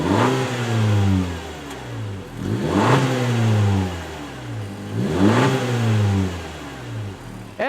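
The exhaust of a 2021 Honda Civic Sport Hatchback with a 1.5 liter engine revs three times in a row, each rev climbing sharply then falling back to idle, close and loud with no voices.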